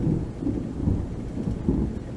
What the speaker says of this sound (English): I don't know if you even heard that or not, but there was thunder.